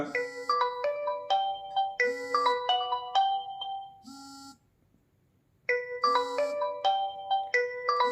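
A Realme Watch 3 Pro plays its find-watch alert, a looping melodic chime of bright, bell-like notes that repeats close and clear, with a short pause before the tune starts again.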